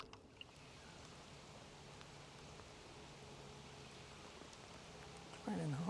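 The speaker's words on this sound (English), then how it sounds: "Raining hard." Heavy rain pouring down during a bass fishing outing, a dense, steady hiss of drops hitting water and surfaces that continues throughout with no letup.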